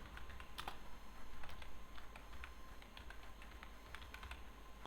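Keys clatter on a computer keyboard while HTML code is typed, a quick, irregular run of close clicks over a faint steady hum.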